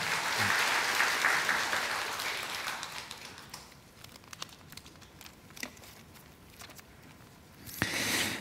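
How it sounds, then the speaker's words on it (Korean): A church congregation applauds two newly baptized members during a Sunday worship service, a dense burst of clapping that thins to scattered claps and rustling. "다 같이 이제 우리 회원되는 두 분을 위해서 박수를 드리겠습니다"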